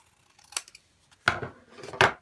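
Scissors trimming a paper mat for a card project, making a few short, crisp snips up close, with quiet handling rustles between the cuts.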